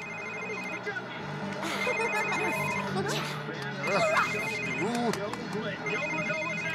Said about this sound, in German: So, wessen Handy klingelt gerade?